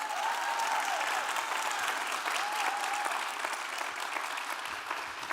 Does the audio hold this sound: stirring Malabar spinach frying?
no